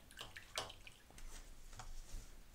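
Water being poured or splashed for a miniature painting session, a few faint, soft trickles and drips heard up close in a quiet room.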